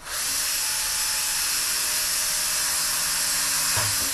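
Step drill bit grinding through sheet metal, a steady loud hissing whine held without break throughout, close up.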